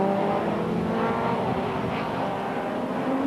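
Onboard engine of Jonathan Palmer's 1991 BTCC touring car at racing speed, a loud, steady, droning roar heard from inside the cockpit with slight changes in pitch and no voices.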